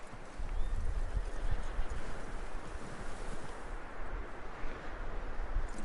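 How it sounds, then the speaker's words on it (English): Horse hooves clip-clopping in the video game Red Dead Redemption 2, a quick uneven patter over wind-like ambience, with a brief faint whinny. "That looks like a decent horse."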